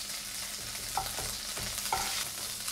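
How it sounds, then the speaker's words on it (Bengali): Crushed green chilli stirred in hot white oil gives a soft, even sizzle, with two or three light scraping stirs; fairly quiet with no voices. "থেঁতো করা কাঁচা লঙ্কা দিয়ে 4-5 সেকেন্ড নাড়াচাড়া করতে হবে।"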